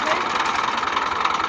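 A tractor engine idles and runs steadily during a wheat harvest, its close mid-pitched rumble continuous and slightly knocking, with talk over it.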